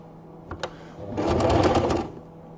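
A sewing machine stitches a straight seam over a fabric patch, first a couple of brief needle clicks, then a short fast whirring run of about a second before stopping, close and clear.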